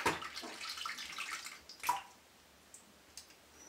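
Water runs from a tap while a razor is rinsed during a traditional wet shave: a soft, uneven splashing stream with a few drips and small plinks as the flow tapers off.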